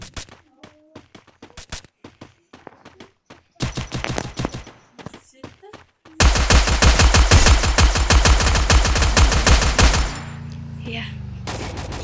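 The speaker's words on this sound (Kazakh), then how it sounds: "Уже атысып жатырмын." Gunfire in the Free Fire video game: scattered single shots and short bursts, then a sustained loud automatic volley that cuts off into a lower rumble.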